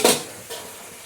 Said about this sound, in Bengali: বন্ধুরা, ঢাকনাটা উঠিয়ে দেখছি পুঁই ডাঁটা আমার কতটুকু হয়েছে।